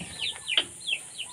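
Farm chickens clucking in a small flock, a string of short, bright calls spaced about every third of a second, fairly close and clear against a quiet yard with a faint background hiss.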